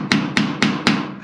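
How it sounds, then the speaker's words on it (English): Four sharp, evenly spaced hammer blows on metal while a metal chicken coop is built, close and loud with no talking. "Hammer."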